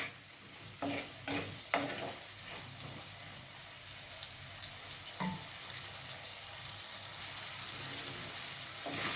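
Ivy gourd curry coated in chili, salt and turmeric sizzles in a pan, with scraping stirs as a spoon turns the pieces, close and continuous.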